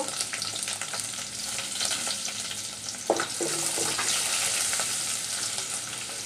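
Onion and garlic fry in hot oil with dried shrimp, a dense steady sizzle close by, with one sharp clatter of a spoon stirring partway through.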